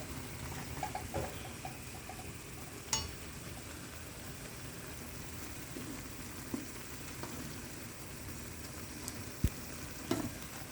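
Korean noodles, Tomyum and Buldak, cook in a pot with a steady low bubbling hiss, broken by occasional faint clinks and stirring sounds.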